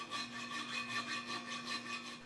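A hand file rasping out holes in a metal part for a CNC plasma table, quick steady back-and-forth strokes close up, with no voices.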